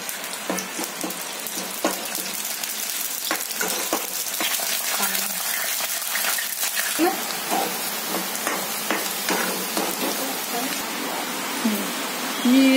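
Curry leaves and chopped onion sputter in hot oil in a kadhai for a Marathi soaked-pea masala curry, a steady rain-like crackle with scattered pops; a voice may murmur faintly beneath.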